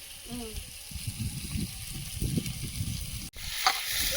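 Vegetables for potato dal sizzle and crackle in a hot pan with stirring noises, close up, interrupted by a sudden cut near the end.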